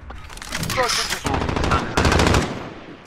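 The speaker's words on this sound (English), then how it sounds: "y'all like my revolver" Rapid, loud bursts of revolver gunfire in a video game, several sharp shots in quick succession under overlapping speech.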